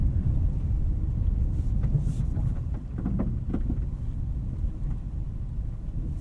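A 2019 Honda Passport Elite AWD SUV pushes through deep snow and ruts at night, a steady low engine and tire rumble with wind-like hiss throughout, occasional crunchy bursts of snow packing under the wheels.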